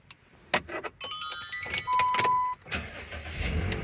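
Keys jangle, a chime sounds, and then a 2008 Dodge Ram's engine cranks and catches on a newly programmed key, settling into a low idle nearby, with no talking.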